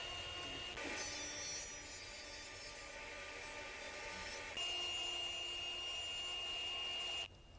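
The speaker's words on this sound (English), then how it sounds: "Next was cutting the taper detail using the same jig from the bed build." A power saw cuts a wooden taper detail for a nightstand using a jig, a sustained, steady whine that shifts tone partway through and stops abruptly near the end, with no talk.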